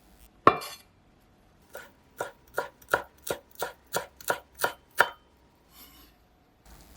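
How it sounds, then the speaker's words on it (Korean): A knife finely chopping fresh dill on a cutting board: one sharp cut, then a steady run of about ten evenly spaced chops, close and distinct, with no talk. "잘게 썰어 주세요."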